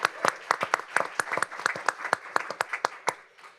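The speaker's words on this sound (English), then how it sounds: "Let's give him a round of applause." Steady applause from an audience at a county board of education special meeting, many hands clapping at a brisk uneven rhythm, close and moderately loud, tapering off toward the end.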